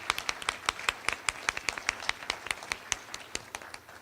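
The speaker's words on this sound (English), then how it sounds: "Please give them a round of applause." An audience at an Invest Ottawa and Bayview Yards anniversary celebration claps in a steady, crisp patter of individual hand claps, nearby and fairly sparse, with no voices over it.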